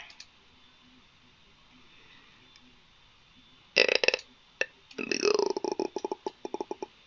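Cartoonish burping from Garry's Mod gameplay arrives in a loud burst followed by a quick train of sharp, clicky belch-like pulses, with a voice imitating the burps just before.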